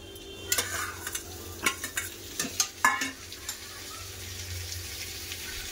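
Onions sizzle and fry quietly in a pan while a utensil stirs them in a few scraping, clattering strokes, with a soft steady hiss underneath, during home cooking of a tomato fish curry.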